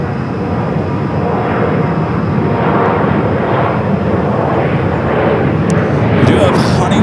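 An old America West Airbus A320 airliner on flight 2117 to Spokane at Phoenix Sky Harbor airport gives a steady, loud, broadband jet roar that holds for the whole span.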